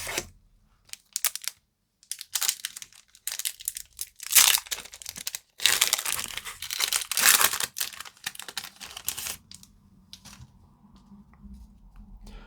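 Foil booster packs of Edge of Eternities trading cards torn open by hand: bursts of crinkling and ripping wrapper, close and fairly loud, broken by short pauses and ending in quieter rustling.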